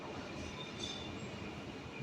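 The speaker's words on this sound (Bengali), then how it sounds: "জাস্ট খড়গপুর স্টেশনের মধ্যে ঢুকছে ট্রেন" A train pulls into Kharagpur railway station late at night, giving a steady, close rumble of rolling carriages with faint wheel squeal across the whole stretch and no voices.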